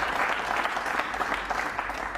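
Audience applause breaking out at a World Cup of Pool match between Germany and Holland, a steady dense clapping from a crowd that sustains at even volume without talk.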